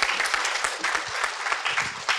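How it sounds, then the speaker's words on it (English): Audience applause fills a hall during a talk about eight years of a school's founders, mentors and alumni, a steady dense clatter of many hands clapping, loud and continuous for a couple of seconds with no voices over it. "So a big round of applause for you,"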